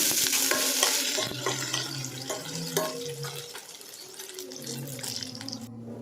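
Chopped onion frying in caramelized sugar in a pan, with a steady close sizzle, stirring scrapes, and water-like bubbling throughout, fading slightly toward the end.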